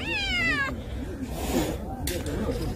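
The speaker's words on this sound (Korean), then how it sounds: "고양이가 있답니다." A cat meows on a mountain trail up Dobongsan, giving one clear, drawn-out wavering meow up close at the start, followed by fainter muffled sounds while a person talks nearby.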